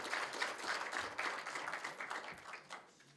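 An audience at a university centre launch breaks into applause, a dense, fairly faint patter of many hands clapping continuously and unevenly in a hall, without speech.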